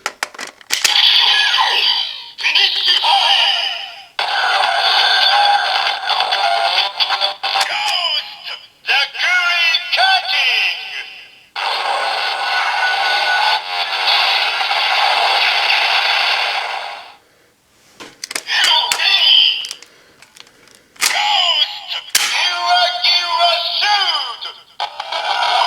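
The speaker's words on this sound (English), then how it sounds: "we can test the weapon finish time sounds for the Ghost Ride Watch and Drive Ride Watch" Zikan Zax toy weapon from Kamen Rider Zi-O with the Ghost Ride Watch, loud electronic finish-time sound effects and music in bursts, with short pauses between.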